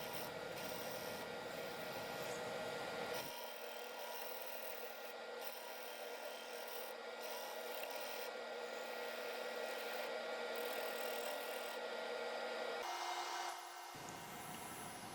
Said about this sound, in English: I did some power sanding as you see here, as well as some hand sanding.